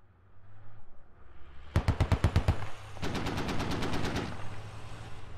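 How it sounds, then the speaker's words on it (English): Self-propelled guns in the Squad video game firing at infantry in the open, two sharp bursts of rapid reports, the first louder and nearer and the second a longer rattling volley, over a low engine rumble. "SPGs are shooting at infantry in the open"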